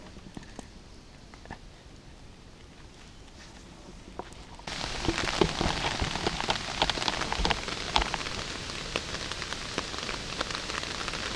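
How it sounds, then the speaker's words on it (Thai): Rain falls on a forest camp during a jungle trek, starting as a light patter and then abruptly swelling into a dense, steady downpour drumming on surfaces close by, with no talking. "ฝนตกซะแล้วครับ"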